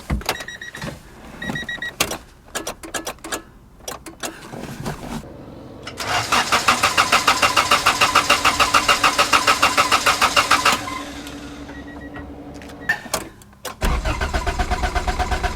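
A Honda car engine cranks with an electric starter whine, catches and runs steadily for several seconds, then cuts off before a second burst of cranking and running, loud and close.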